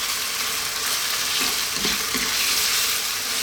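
Chicken tomato spaghetti sauce simmering in a pan on lively heat, a steady loud hissing sizzle with faint stirring bumps partway through.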